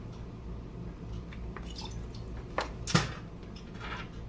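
Water poured and dripping into a pot of rice for a rice water hair rinse, with soft trickles, small splashes and a couple of light clinks of a utensil or container, fairly faint and close.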